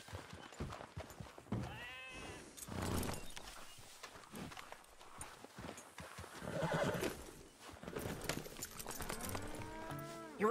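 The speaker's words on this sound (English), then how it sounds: "Get your horse and let's go." Horse hooves clip-clop in Red Dead Redemption 2 gameplay amid a busy, faint farm soundscape, with whinnies and lowing cattle mixed into the steady rhythm.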